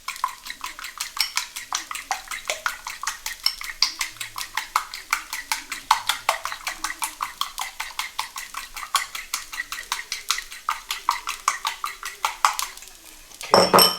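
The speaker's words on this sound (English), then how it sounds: "Let's whisk 2 eggs while that's getting done" Two eggs whisked briskly in a bowl, a fast steady clatter of utensil against the bowl that runs continuously, close and alone, with a brief louder knock at the end.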